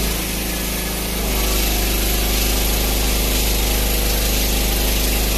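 A DEKES 3500-watt gasoline generator runs under heavy load near 2,700 watts, a loud, close, steady engine drone with a strong low hum that deepens and thickens after about a second, with no voices.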